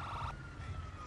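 Ambulance sirens wail in the video game GTA 5, a faint, steady electronic tone over a low rumble with no one talking.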